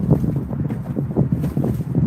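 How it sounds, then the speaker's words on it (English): Strong wind buffets the microphone outdoors as a continuous, loud, low rumbling roar that surges and dips unevenly, with no voices heard. "The wind is blowing crazy"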